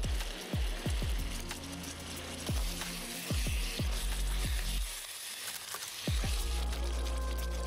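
Poppy seed paste goes into a prawn curry in a hot pan, giving a steady close sizzle with repeated low thumps and scrapes as it is stirred.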